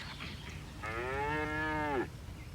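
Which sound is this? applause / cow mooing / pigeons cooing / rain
cow mooing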